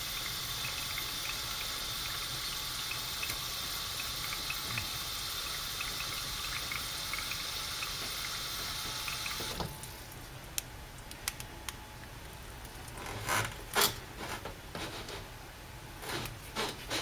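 Tap water runs into a cooking pot in a steady, close hiss for several seconds, then cuts off, leaving a few light clinks and knocks of the pot being handled.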